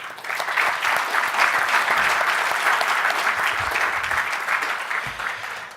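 Hall audience at a celebration of 20 years of the Hong Kong SAR giving sponsors a sustained round of applause, a full, steady wash of clapping that swells and then gently tapers.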